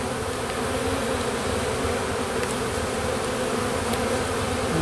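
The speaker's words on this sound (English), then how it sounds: "We got some angry bees." Angry honey bees swarm loudly around an opened hive during a spring inspection, a dense, steady buzzing drone that fills the whole clip without a break.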